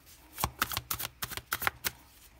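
A deck of tarot cards is shuffled by hand, giving a quick series of crisp riffling snaps and slaps, close and fairly quiet, with short gaps between bursts.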